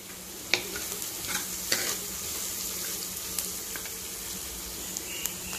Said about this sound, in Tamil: வெங்காய பூண்டு வதங்கிடுச்சு